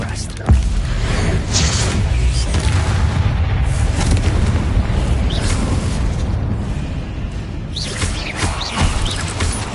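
A Confringo fire spell explodes in Hogwarts Legacy, a loud booming blast that rolls into continuous rumbling destruction and debris noise for several seconds.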